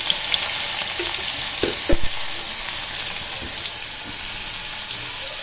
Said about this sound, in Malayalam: ഒരു ചട്ടി എടുത്തിട്ട് അതിലേക്ക് എണ്ണ ഒഴിച്ചു കൊടുത്തു. പിന്നെ അതിലേക്ക് നമുക്ക് ചെറിയ ഉള്ളി അരിഞ്ഞത് ഇട്ട് കൊടുക്കാം.